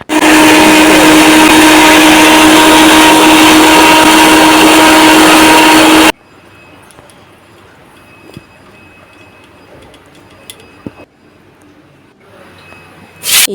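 Electric grinder blending coriander, chili, cumin and whole garam masala into a spice paste, with a loud, steady, close whine for about six seconds. It then cuts off, leaving a quiet kitchen with a few small clicks and taps.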